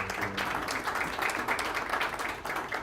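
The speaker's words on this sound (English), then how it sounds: "maybe another round of applause for the team" A crowd claps steadily at a product launch event, a dense wash of applause that holds at an even level throughout without fading.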